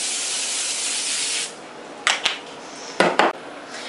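A close, steady spray of cooking spray hisses for over a second, then stops, followed by a few light metallic clatters of a pan being handled.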